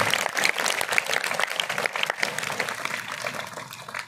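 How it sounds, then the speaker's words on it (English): Audience at a school speech competition clapping for the participants: a dense, continuous round of applause from many hands nearby that thins slightly toward the end. "Clap loudly for all these participants."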